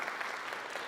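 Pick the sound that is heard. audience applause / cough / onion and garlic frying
audience applause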